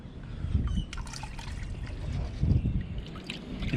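Water is poured while black sand is panned for gold, making uneven trickles, splashes and sloshing with a few brief clinks. The sounds are close and moderately loud, and the pouring comes in surges.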